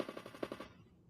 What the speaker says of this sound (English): Can y'all hear my little gunshots?